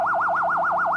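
A steady 1 kHz test tone from a signal generator, connected to a LeCroy 9400 oscilloscope, wobbles up and down in pitch about seven times a second in an even warble, loud and alone.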